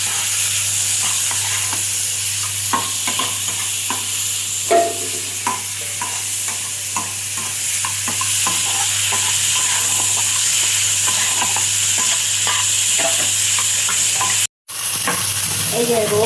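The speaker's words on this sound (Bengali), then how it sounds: "এই যে রসুন, কালো জিরে, চিংড়ি মাছ, আমি এগুলো একসঙ্গে নেড়ে নিলাম।" Garlic, nigella seeds and prawns stir-fried together in a pan, a loud continuous sizzle with repeated scraping and tapping of the spatula, then a brief sudden dropout near the end.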